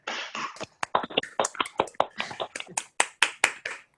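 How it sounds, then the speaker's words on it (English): Participants in an online meeting unmute and clap their hands together, a scattered run of sharp, distinct claps from several people arriving out of sync over about four seconds, each clap clear and close against near silence. "If everybody unmutes themselves, we'll do a hand clap in 3 seconds."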